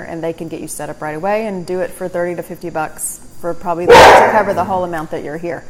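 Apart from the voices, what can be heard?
dog barking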